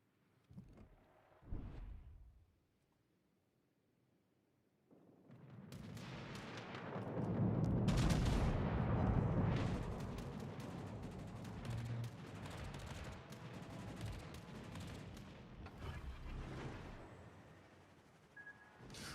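Secondary guns fire on a warship in a naval battle video game, a long rumbling barrage of booming shots that swells after a quiet stretch and continues loudly to the end.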